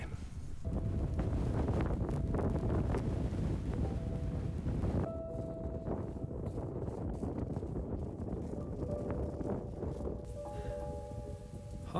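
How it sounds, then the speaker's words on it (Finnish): Strong wind roars steadily across snowy wilderness, a loud continuous buffeting rush with gusting wind noise on the microphone throughout, no voices. "tuuli oli aivan hirviä"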